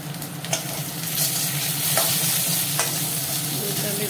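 Cumin seeds splutter in hot oil with a continuous close sizzle, broken by a few sharp pops and spatters as they crackle, heard alone without any speech.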